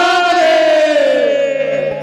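A crowd at a devotional comedy gathering shouts back a sustained collective chant of Har Har Mahadev in response to a call, loud and unified, its pitch sliding gently downward over about two seconds.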